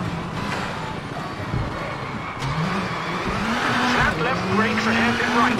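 A rally car engine in the video game WRC 8 drones and revs steadily, with rough thumps and scrapes as the low-set car bottoms out on bumps, loud and close throughout.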